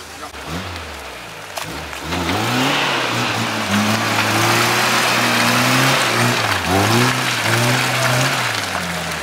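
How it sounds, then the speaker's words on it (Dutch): A 4x4 off-road vehicle stuck in thick clay, its engine revving loud and close in rising and falling surges, with brief voices mixed in. "Motor opwarmen tot 120 graden, dan loopt hij nog mooier."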